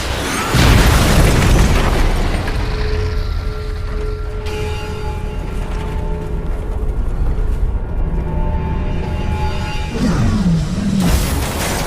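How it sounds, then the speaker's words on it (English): Rocket launcher blast in the video game Metal Gear Rising, a loud booming explosion followed by a long rumbling tail mixed with game music and tones, no talking. "Rocket launcher!"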